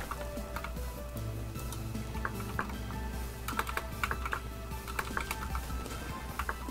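Rapid irregular keyboard typing clicks in bursts, heard in a Vintage Story game session over a steady low background hum.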